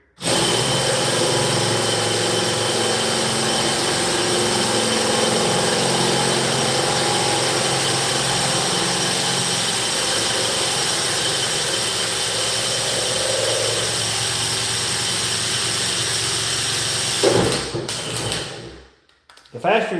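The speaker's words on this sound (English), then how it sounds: "The faster your drill goes, the finer that powder is going to be." A power drill runs steadily at high speed for a long stretch during a Roman tub installation, a continuous whirring drone that cuts off near the end.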